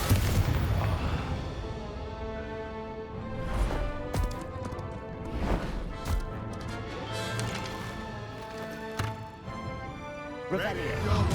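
Confringo fire spells in the game Hogwarts Legacy burst as repeated booming explosions, several loud blasts spaced a second or two apart over swelling music and in-game combat noise, with voices in between.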